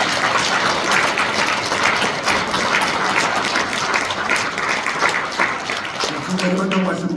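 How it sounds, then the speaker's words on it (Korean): A church congregation applauds during a Korean Methodist service celebrating elders' retirement and installation, a dense, steady round of clapping that fills the clip before a voice begins speaking near the end. "우리 박수 한번 보내주세요."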